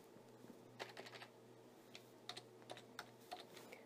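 Typing on a computer keyboard is heard as faint, close, irregular key clicks in short bursts, over a low steady hum and with no talk.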